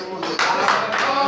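Audience applause at a rock concert, steady clapping from a crowd that swells slightly and sustains throughout, with voices mixed in.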